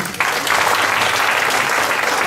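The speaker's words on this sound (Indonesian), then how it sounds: "tepuk tangan buat ahli" Audience applause at an entrepreneurship seminar in Saga, Kyushu, bursting in after a brief pause and holding steady as a dense, loud wash of many hands clapping without talk.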